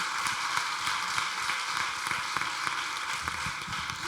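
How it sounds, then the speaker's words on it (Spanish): An audience applauds a guest named Amalia at a diabetes event, a steady wash of many hands clapping with scattered sharper claps throughout, fairly close and without talk. "Le damos un aplauso"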